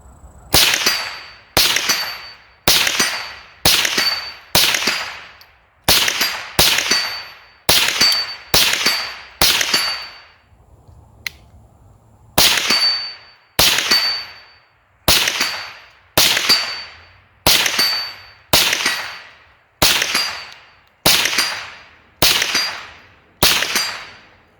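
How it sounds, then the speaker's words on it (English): A .22 rifle fired from a rested position at a 6-inch steel gong 75 yards away: about twenty sharp, loud shots in evenly spaced strings, each followed by a ringing metallic ping and short decay, with a brief pause midway. "fire 10 rounds and see if we can't make that steel ring."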